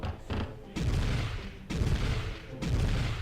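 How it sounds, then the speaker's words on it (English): Gunfire in Warhammer 40k: Chaos Gate, three heavy booming volleys of shots separated by brief gaps, each a dense rumbling burst that sustains for about a second. "Why the hell are you shooting?"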